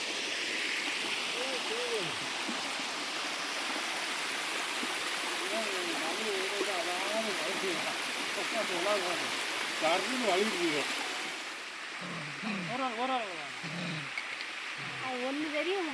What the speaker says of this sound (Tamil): அருவிகளில் அங்கங்கே நமக்கு தண்ணி நீரோட்டம் இருக்குதுங்க